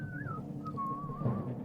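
A single person whistles a short, wavering melody, clear and close over a low background hum.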